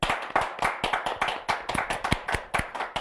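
Clapping from a live show audience in Las Vegas, a steady patter of many hands with sharp individual claps standing out, fairly close and continuous for the whole stretch, with no talk over it.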